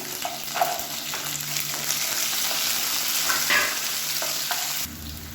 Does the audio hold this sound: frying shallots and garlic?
yes